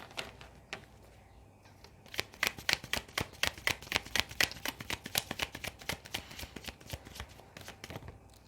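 A deck of tarot cards is shuffled by hand, starting quiet and then breaking into a quick run of close, crisp riffling clicks that keep going to the end, with no talking.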